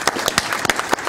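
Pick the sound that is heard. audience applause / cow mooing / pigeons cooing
audience applause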